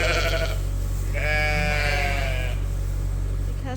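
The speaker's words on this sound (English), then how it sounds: "Because they're sheep" A newborn lamb gives one clear, wavering bleat at close range on a farm, rising over steady low background rumble and wind noise.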